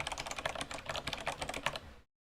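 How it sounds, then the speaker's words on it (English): Rapid, even clicking of keys being typed on a computer keyboard, close and fairly quiet, running for about two seconds before stopping abruptly into silence. "No, it is just me typing."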